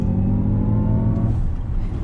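A 2019 Jaguar I-Pace electric performance SUV accelerates on throttle, giving a steady, loud drive hum with low rumble and faint rising tonal whine across the short stretch.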